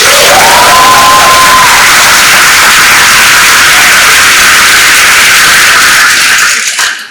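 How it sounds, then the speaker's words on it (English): At a school open house for a choice program, an audience breaks into very loud applause and cheering, a dense, saturated roar of clapping and shouts that cuts off abruptly. "That deserves a round of applause."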